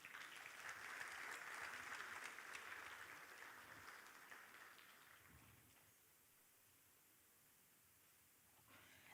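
Applause from a forum audience for the Deputy Governor at the Africa Emerging Markets Forum, a dense, broad clapping swell that is loudest at the start, fades over several seconds and leaves quiet room tone.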